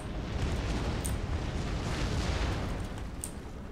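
Dense, sustained artillery fire from the Empire: Total War battlefield, a continuous roar of booms and bursts rolling together loudly for several seconds with no talking.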